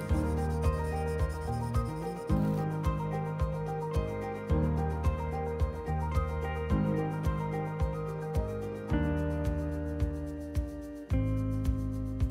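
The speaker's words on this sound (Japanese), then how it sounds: "ダイヤモンドカッターで切ってヤスリで切断面を研いでいます" A hand file works the freshly cut edge of a diamond-cutter-scored glass panel in quick, repeated rasping strokes, a dozen or more in a steady rhythm, close and fairly quiet.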